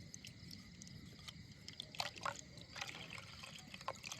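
Water trickles and drips into a vessel to soak mung dal lentils, faint and close, with small scattered splashes and liquid sounds.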